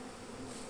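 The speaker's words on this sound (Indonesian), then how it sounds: "Saya berada di kelilingan lebah ini ya, dan mereka tidak ada menggigit." Honeybees at a bee farm in Langgam, Riau, buzzing steadily as a dense, close swarm with a continuous drone and no pauses or voices.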